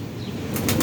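A pigeon beats its wings in a short burst of flapping at the end, close and moderately loud over a dull background hum.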